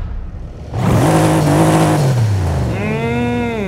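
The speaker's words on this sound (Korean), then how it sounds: "일단은 제가 시동부터 켜볼게요" A Mercedes-Benz car engine cranks and fires up, then settles into a loud, steady, gravelly idle with a brief rise in revs, heard close with no talk.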